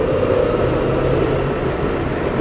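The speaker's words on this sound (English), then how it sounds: "grinding noise, it's not normal." A Tesla Model X P90DL pulling hard at full throttle, with a steady loud drone and a dense low grinding rumble running unbroken throughout, with no speech.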